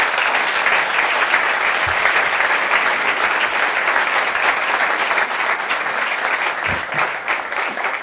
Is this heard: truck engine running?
no